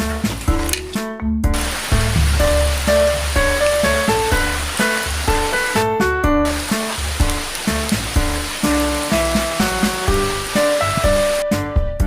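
Rain pours down in a Philippine province, making a loud, steady, continuous wash of noise with tonal sounds layered over it throughout.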